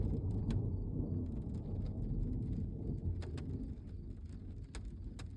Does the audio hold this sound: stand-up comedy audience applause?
no